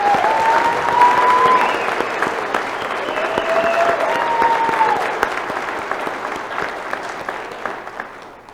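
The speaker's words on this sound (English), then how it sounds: "Let us give our graduates a round of applause." A graduation audience at a spring 2022 commencement ceremony for Allegany College of Maryland applauds steadily for the graduates, a dense, sustained clapping that swells early and then slowly tapers.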